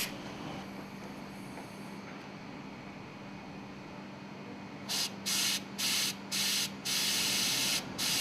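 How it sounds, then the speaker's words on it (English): Compressed air blows to clean an air cylinder from an exhaust valve, first a low steady hum, then a run of short sharp hissing blasts ending in one longer blast, close and loud. "Clean the air cylinder with compressed air."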